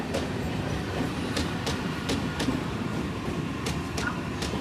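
A train pulls out of a station with a steady, close rumble and rhythmic wheel clacks and clicks repeating throughout. No one speaks.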